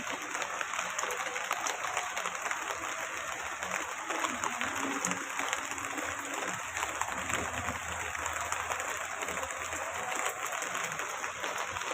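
A steady patter of light rain fills the air evenly, a dense crackling wash with no clear breaks; no one speaks.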